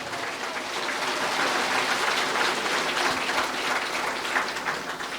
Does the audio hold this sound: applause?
yes